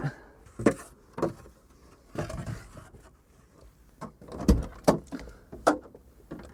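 A camper van door is opened during roof-lining work, producing a series of irregular thuds, clunks and scraping knocks, close by and separated by short pauses.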